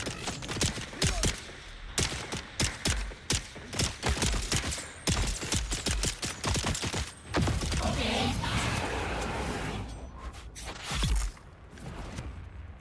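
Rapid bursts of gunfire in the Dune: Awakening video game, dense volleys of shots cracking one after another for most of the stretch, with brief pauses and mechanical clatter between bursts, fairly loud and close.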